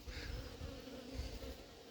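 A hornet buzzes near a beehive protected by an anti-hornet tent at an apiary, a steady, faint insect drone with wingbeat hum, other bees droning around it and no talking.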